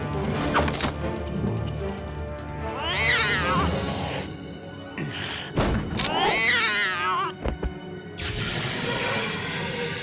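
Cartoon cat from the Galactik Football animated series meowing and yowling in a few loud, drawn-out cries, mixed with thuds, crashes and sound effects, no speech.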